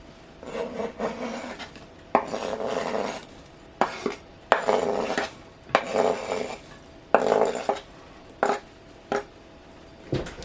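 Fresh cranberries being mixed into scone dough of fresh-milled flour in a bowl, a series of rasping, scraping strokes of a utensil against the bowl in uneven bursts with short pauses, close and clear.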